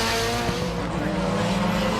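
Circuit racing cars, among them an Audi A4 Quattro, howl past at speed in Barbados with a loud continuous engine roar and shifting whine.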